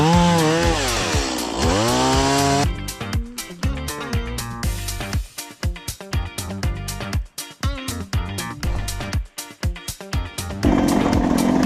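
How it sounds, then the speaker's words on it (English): A chainsaw roars loudly and steadily, its pitch dipping and rising, then sputters in choppy bursts as it revs and idles close by, clearing a single-track trail in Calabogie. "With a chainsaw."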